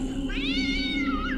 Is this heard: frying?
no